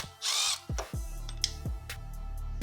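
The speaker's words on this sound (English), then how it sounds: "Now I'll remove the 3 bolts holding on our stator, and also our pickup." A power tool spins out the stator and pickup bolts on a Honda TRX250R engine, with a sustained whirring burst followed by several short bursts and clicks, close and loud with no talking.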